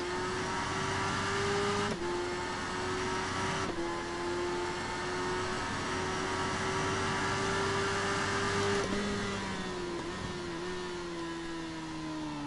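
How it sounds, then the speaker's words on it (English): A high-revving motorcycle engine bouncing off the rev limiter in the racing game RIDE 3 drones steadily, holding a near-constant pitch with small stutters and brief dips, loud and sustained with no talk. "Even the rev limiter sounds aggressive on that bike."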